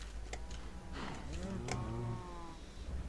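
A Minecraft cow moos once, low and drawn out, over a steady background hum; a short bellow in the middle of the clip.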